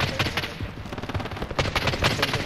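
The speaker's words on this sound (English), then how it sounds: "I heard a snipe bullet." Gunfire crackles in a battle royale trios match, a rapid, dense burst of repeated shots with sharp cracks packed closely together, loud and continuous for a couple of seconds with no talk over it.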